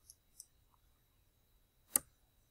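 A single crisp mouse click selecting the weld button in Cricut Design Space, one sharp isolated tick in otherwise near-silent room tone, with a couple of faint softer ticks just before.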